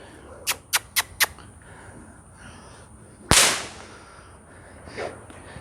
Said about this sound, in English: he's going to get bitten with the end of the whip